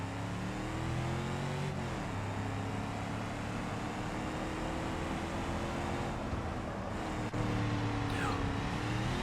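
In the BeamNG.Drive driving game, a car engine held at full throttle roars steadily and loudly, pitch climbing through gear changes with brief dips between them, alone without speech.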